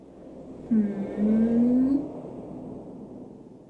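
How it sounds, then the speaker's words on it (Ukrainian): A bus engine rumbles nearby, its whine rising briefly as it accelerates, then settling back to a low idle hum. "Здається, я знаю, що це. Це автобус."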